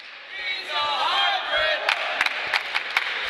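A crowd shouts and cheers in a school gym at an independent wrestling show, a sustained roar of voices that rises and swells, with sharp smacks of wrestlers' chops cracking through it several times.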